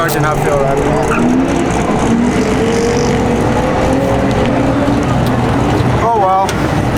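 A drift car runs a lap of the Drift STL race track, its engine note rising and falling continuously and loudly across the whole stretch, with a brief sharp shift near the end.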